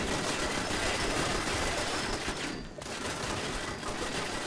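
Dense, continuous automatic gunfire from turrets in the video game Fallout 76, a steady loud barrage with a brief dip partway through, no voices.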